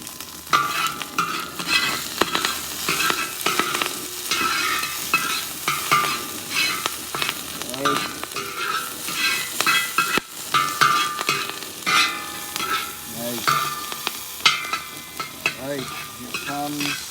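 Onions sizzling and stir-frying in hot oil in a cowboy wok for fried rice, a continuous loud crackling sizzle with popping and scraping stirs throughout.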